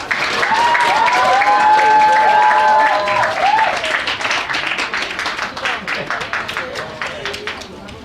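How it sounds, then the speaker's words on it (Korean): Audience applause welcoming a missionary who sings in Japanese, at a weekly chapel service at a Seoul foreign-language high school. The clapping is loud and dense at first, with whistle-like cheering tones early on, then slowly thins over eight seconds. "큰 박수로 환영하겠습니다"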